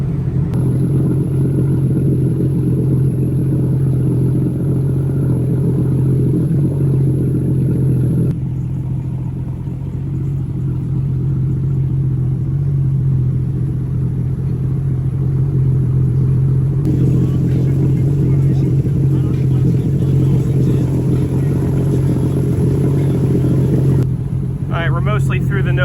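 A Sea-Doo jet ski engine idling and running slowly through a half-mile no wake zone, a steady loud low rumble and hum that holds throughout, with faint shifts in tone; a voice talks over it at times.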